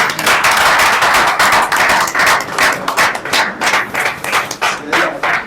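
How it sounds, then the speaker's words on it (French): Audience applause for Senator Gentili Mbaka Ngobila at a Congolese political gathering in Belgium, a dense, sustained burst of many hands clapping that thins into uneven, scattered claps toward the end. "L'honorable sénateur Gentili Mbaka Ngobila, si je vous demanderais d'applaudir très très très fort."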